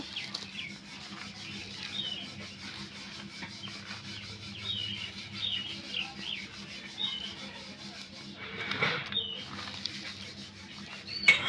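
Cabbage pakora batter being mixed by hand with chili powder, turmeric and spices, a soft continuous rubbing and squishing at close range with faint background hum.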